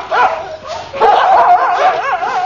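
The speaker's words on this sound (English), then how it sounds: "Your dogs have got very loud voices" Dogs bark and yelp loudly in a quick, wavering run of howl-like, whining calls, close and continuous, with no speech over them.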